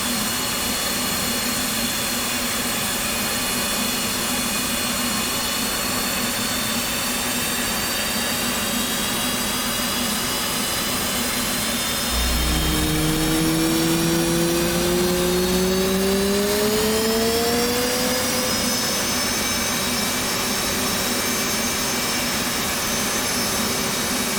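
F/A-18C Hornet right jet engine spooling up in a flight simulator game, a steady turbine whine rising in pitch over a constant roar, loud and continuous with no talk.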